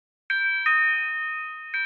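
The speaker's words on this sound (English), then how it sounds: "At T-Mobile, we've found out Britain loves a novelty doorbell." A novelty doorbell rings out clearly in a radio advert, two bright chimes close together, then a sustained ringing tone and a third chime near the end, with no voices over it.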